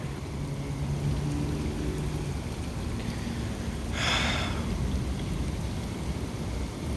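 Heavy rain falls steadily in the aftermath of a violent thunderstorm with high wind gusts, a continuous broadband wash with a brief brighter surge of spattering midway through.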